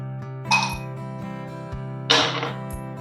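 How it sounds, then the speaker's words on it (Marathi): Ice cubes clink into a glass for a chilled Rooh Afza rose drink, two distinct bright clattering drops about a second and a half apart, close and clear over a steady background hum. "असा एक ग्लास घ्यायचा त्याच्यामध्ये आपल्याला बर्फ घालायचं आहे"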